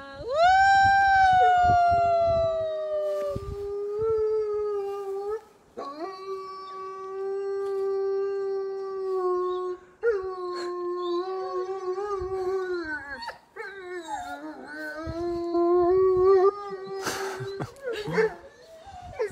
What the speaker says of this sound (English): They're going to howl.